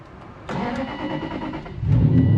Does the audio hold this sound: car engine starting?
yes